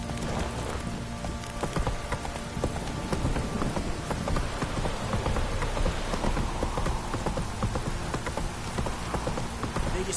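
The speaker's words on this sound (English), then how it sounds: "This downpour's a bastard, it is." Heavy rain downpour in the video game Witcher 3, a dense steady hiss of rainfall with a horse's hooves clip-clopping through it, constant and fairly full throughout.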